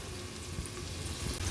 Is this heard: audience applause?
no